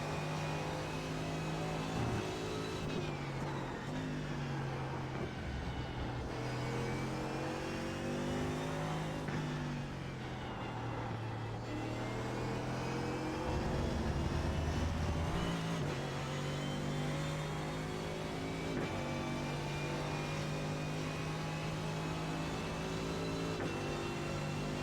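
A Porsche Cup race car engine in the iRacing simulator drones and revs continuously, rising and falling in pitch through gear changes and braking, loud and steady with no voices.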